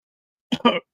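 Two quick, harsh coughs close up, one right after the other, with silence before them.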